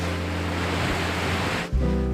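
Ocean surf on the east coast of Australia: a steady, loud wash of broadband wave noise that rolls on without a break, then a sudden low thump and shift near the end.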